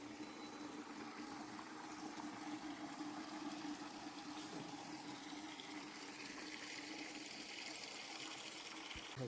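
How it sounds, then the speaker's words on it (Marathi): Hot water pours from a boiler at lodgings on Sajjangad fort as a steady, close rushing flow that holds at an even level throughout, with no one talking. "गरम पाणी घेते."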